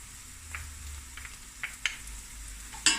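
Garlic goes into onions already sizzling and browning in a frying pan for Cape Malay denningvleis, a soft steady crackle with a few small pops and clinks, fairly faint and without voices.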